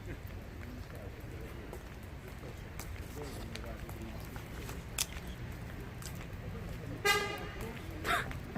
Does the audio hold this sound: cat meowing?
no